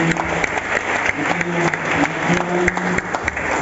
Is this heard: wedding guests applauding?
yes